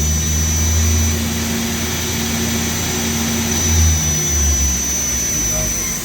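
Eurotech Elite Multiflex 545SL-Y CNC turning center with its front spindle spinning at 5,000 RPM, a loud steady whine and hum over constant machine noise, recorded close up.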